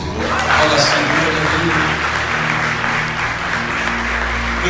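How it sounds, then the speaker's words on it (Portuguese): A church congregation applauds during a worship service, steady sustained clapping from many hands filling the hall, with a low musical hum and voices underneath. "dá um aplauso ao Senhor"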